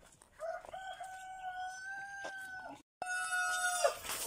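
A rooster on a farm crows in one long, loud, drawn-out call near the microphone, then crows again after a brief gap, with soft clucking of chickens around it.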